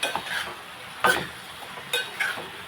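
A spoon stirs bottle gourd curry in a pan, producing a few distinct scraping and clinking strokes at irregular intervals over a faint background sizzle.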